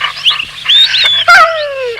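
Dog making a few short, high yips and whiny barks in quick succession, close and loud in a quiet room.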